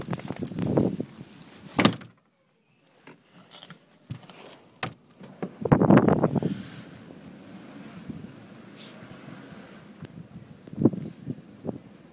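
A door opens and closes in a quiet room during a Chicago blizzard, with a few dull thumps and knocks standing out against a soft wind-like background hiss.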